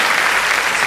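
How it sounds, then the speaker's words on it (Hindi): A brief burst of dense audience applause at a Hindi comic poetry recital, many hands clapping loudly at once. "आप उस कविता की अगवानी में एक बार तालियां बजाकर"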